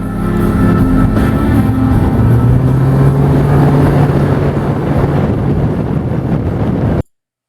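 Heavy, steady wind rush buffeting the microphone while riding an open John Deere Gator side-by-side at speed, loud and constant with a low engine drone beneath, cutting off abruptly at the end.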